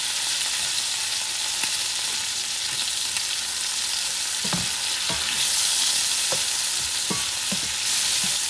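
Shrimp sizzling steadily in a hot pan after a squeeze of lemon, a continuous bright frying hiss with occasional soft scrapes and clicks of stirring, close and moderately loud with no talking.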